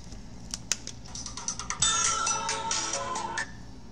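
An Apple phone ringtone plays clearly at moderate volume, with a few soft taps first and then the melodic tones ringing alone for a couple of seconds.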